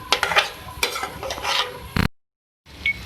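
Moong dal cooking in a pan for samosa filling is stirred with scraping, clattering strokes and a light sizzle. The sound runs close and fairly loud for about two seconds, then cuts to silence before a brief quieter scrape returns.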